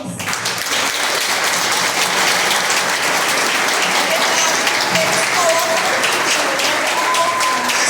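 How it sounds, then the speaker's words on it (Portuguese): Warm, continuous applause from a congregation at a church confirmation ceremony, dense and steady for several seconds with scattered voices mixed in. "Então eu queria pedir uma salva de palmas."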